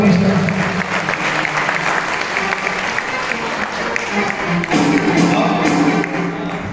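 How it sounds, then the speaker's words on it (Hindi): A large gathering at a Jain pilgrimage event applauds in a thick, continuous roar of clapping for the dancers, steady and close throughout with a small surge near the end. "एक बार दोनों हाथ ऊपर करके तालियों से बढ़ाओ"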